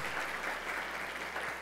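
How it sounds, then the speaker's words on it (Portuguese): An audience at a ceremony gives a short burst of applause, dense even clapping held at a moderate level throughout, with no voices over it. "a esposa a quem eu peço uma salva de palmas a ambos"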